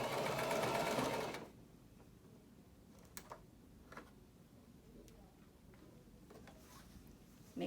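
Sewing machine stitching fabric for a PPE gown, a loud steady whir for the first second or so, then stopping, leaving faint handling sounds and a few soft clicks.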